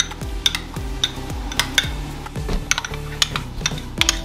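Ground spices (black pepper, sweet paprika, ground cumin) being mixed in a bowl for homemade kebab seasoning: a steady run of close scraping and clinking taps of a utensil against the bowl, roughly two or three strikes per second, with no talking.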